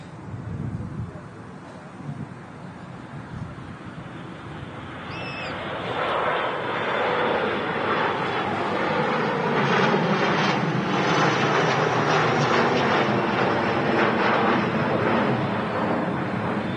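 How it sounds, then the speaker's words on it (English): A Saudia Boeing 787-9 Dreamliner in from Jeddah taxis at Manchester Airport, its engine roar swelling from a quieter start into a loud, sustained broadband whine that holds steady close by. "Lovely image there of the Saudia. 787-9 Dreamliner today from Jeddah."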